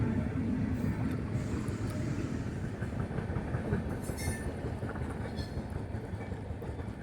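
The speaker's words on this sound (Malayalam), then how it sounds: "ട്രെയിൻ പോകുന്നു" A passenger train rumbles past close by, a steady roar with faint clickety-clack of wheels on rails, gradually easing off toward the end.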